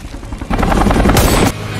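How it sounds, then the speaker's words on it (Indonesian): Loud rotor thumping of a helicopter firing at people on the ground, with a rushing roar and sharp gunfire bursts, close and intense. "mereka harus menghadapi helikopter yang terus saja menembak ke arah Stick"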